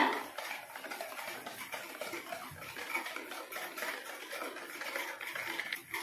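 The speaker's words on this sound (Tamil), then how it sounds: "இதை லைட்டா நம்ம நல்லா விஸ்க் வச்சு நம்ம மிக்ஸ் பண்ணி விட்டுறணும்" A whisk beats the wet ingredients for an eggless tutti frutti cake batter in a bowl, a quick, continuous soft clicking and scraping that stays faint and steady throughout.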